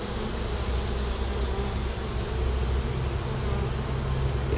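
A dense, continuous buzz of many honey bees swarming close around a hive, steady and loud with no voices.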